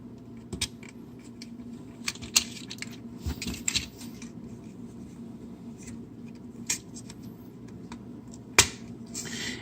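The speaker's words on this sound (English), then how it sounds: "make sure you hear the click on it." Plastic adapter piece from a Perfect Effect PC-17 upgrade kit for a Combiner Wars Ultra Magnus toy snapping into its slot, heard as scattered sharp close clicks and small taps over a quiet background.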